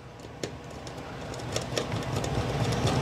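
Motherboard screws are driven into an open-frame computer test bench chassis, giving a close whirring motor drone with a few sharp clicks and a gradually building hum.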